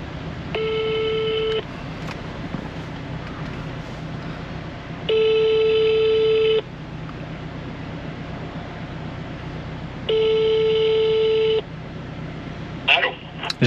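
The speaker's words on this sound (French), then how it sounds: "on va lui passer un petit coup de fil." Ringback tone of an outgoing phone call placed from a moving vehicle near the end of a drive, three long steady rings separated by pauses over a low road rumble.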